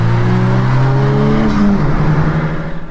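A 10th gen Honda Civic Si accelerates hard in a race, its engine droning loud and close with rising tones, then dropping pitch at a shift and pulling again.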